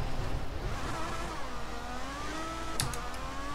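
Formula 1 race car engine in the F1 2014 racing game, a steady droning whine that rises and falls in pitch as the car accelerates and shifts, with a brief sharp click near the end.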